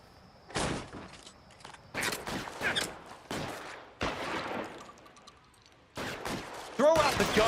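Gunfire rings out in an LA Noire shootout: a string of sharp, loud shots and short bursts at uneven intervals, with fainter voices between them.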